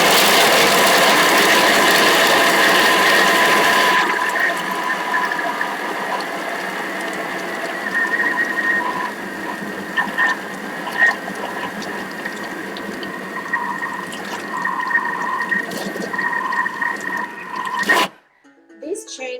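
A food processor spins frozen strawberry ice cream pieces at speed 6 for a 20-second cycle, giving a loud, steady mechanical whir with rattling. It is harshest for the first few seconds, then settles into an even grind and cuts off abruptly near the end.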